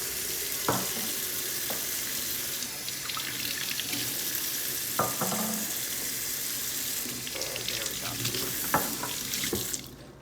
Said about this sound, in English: Go ahead and rinse the outside of this and just show what it looks like.